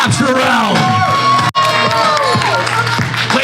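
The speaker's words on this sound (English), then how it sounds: "A round of applause for Capullo" A convention crowd at a cosplay content creation panel at Megacon 2025 cheers and whoops loudly and continuously for a panelist, with shouted voices layered over the din and one brief dropout midway.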